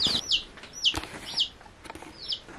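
A newly bought baby chick gives repeated high, thin peeps while it is being picked up by hand, close by, with soft handling noises between the calls.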